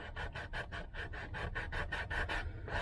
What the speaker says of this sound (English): can roll your sandpaper up like this.